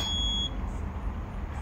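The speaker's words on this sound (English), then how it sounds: "if I turn it on here, it beeps once." A Yoleny robotic lawn mower gives a single high electronic beep when switched on, heard close and clear for about half a second before fading into quiet background hum.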